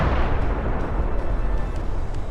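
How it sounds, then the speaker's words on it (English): A precise drone strike on Russian positions in a village: a dense, sustained blast rumble with heavy low-end roar and crackle, loud and continuous, with no talk over it. "A precise drone strike."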